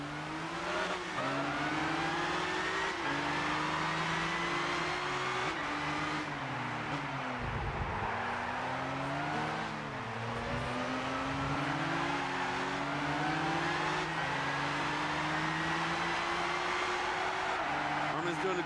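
Race cars in Gran Turismo 6 at a live E3 2013 competition, engines revving with rising and falling gear-shift sweeps that run steadily throughout, while an announcer talks over the constant roar and a crowd murmurs.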